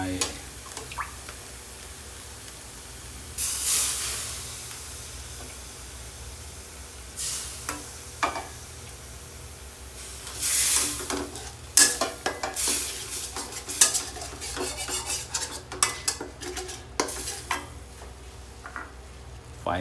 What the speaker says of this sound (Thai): ผัดน้ำพริกแกงก่อนนะครับให้หอมนะครับ พอพริกแกงเราเริ่มจะไหม้แล้วเราก็เติมกะทิไปนะครับ